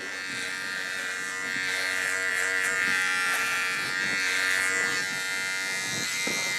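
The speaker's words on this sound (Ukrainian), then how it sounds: "мені здається, що бритва стриже дуже добре" A VGR V-082 electric hair trimmer buzzes steadily and loudly at close range while cutting hair, its whine holding even with slight changes in load.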